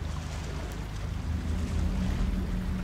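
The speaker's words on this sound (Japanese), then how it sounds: "すごい滝、水の量すごいね。" A huge waterfall in the horror video game The Evil Within pours a heavy volume of water, making a steady, loud, broad rushing roar that never lets up.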